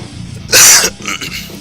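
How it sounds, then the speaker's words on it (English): A single short, harsh cough bursts out loud and close from a streamer at a desk, followed by faint breathy sounds. "Sorry about the cough."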